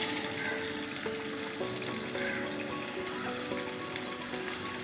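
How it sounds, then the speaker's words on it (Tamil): Fish sizzles steadily in hot oil in a home kitchen pan, a dense, even crackle and hiss with scattered pops, heard alone at moderate volume. "இப்போ நான் வறுக்கிறேன். கொஞ்சம் எண்ணெய் காய வச்சுட்டு அது சூடாகிடுச்சு. இப்போ மீன் போட்டுக்கலாம்."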